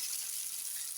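A chicken leg piece frying in hot oil over a medium flame, a short steady sizzling hiss at moderate level with no voices.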